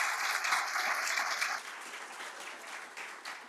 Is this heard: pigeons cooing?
no